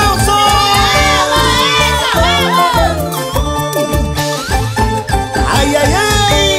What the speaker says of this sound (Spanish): sus hinchas le dan la bienvenida con esos aplausos.